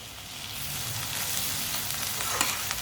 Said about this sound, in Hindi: 2-3 मिनट के लिए पका लेंगे सब चीज़ों को।